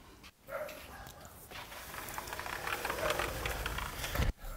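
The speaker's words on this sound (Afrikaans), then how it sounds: "Want ek is seker julle hoor dit, die honde." Dogs bark outdoors near a building in South Africa, a muddle of yips and barks at moderate distance over a rushing, noisy background for several seconds.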